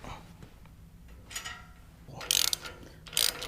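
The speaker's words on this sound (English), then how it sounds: "Now we'll get these tightened up." A ratchet tightening bolts with nylock nuts on a Harbor Freight welding cart, giving two loud bursts of rapid clicking near the end after quieter handling noises.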